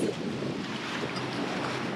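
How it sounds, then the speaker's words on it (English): A sailboat rides through choppy, lumpy water churned up by power boat wakes rebounding off jetties, giving a steady wash of waves and water rushing against the hull, with constant wind buffeting the microphone throughout. "This is some seriously lumpy water, so you get all these power boaters."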